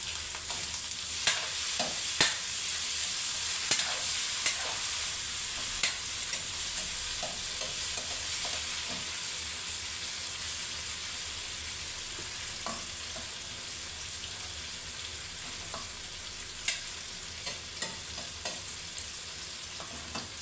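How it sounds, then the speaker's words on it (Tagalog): Fried tofu is stir-fried for tofu sisig, a long stretch of scattered scrapes and clinks of a utensil against the pan over a continuous soft frying hiss. "Ang susunod natin is ang pagluluto na ng mismong tokwa sushi."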